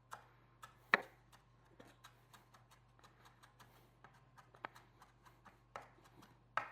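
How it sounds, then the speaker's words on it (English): A knife chops parsley on a cutting board, a steady run of quiet, crisp taps at a brisk, even rhythm over a low background hum, with no talking. "I have some more parsley I'm just chopping up."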